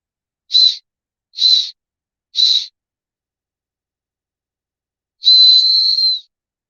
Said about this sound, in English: It's got a survival whistle on it.